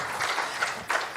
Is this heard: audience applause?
yes